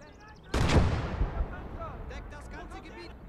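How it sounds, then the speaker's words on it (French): A single loud gunshot or artillery blast in the Call to Arms: Gates of Hell World War II game bursts out sharply, then rumbles and decays, followed by fainter distant clatter. "Il tire sur qui là?"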